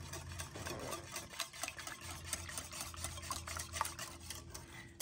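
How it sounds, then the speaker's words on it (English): A whisk beating flour into French toast batter in a bowl, rapid rhythmic scraping and clicking strokes, close but quiet, with no talking. "And then we're just going to whisk that all together"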